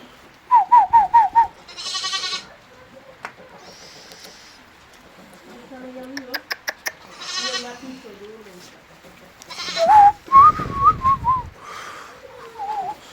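On a farm with ewes bearing twins, sheep give a few loud nearby bleats amid sharp human whistling and some voices, the sounds coming in separate bursts with quiet gaps.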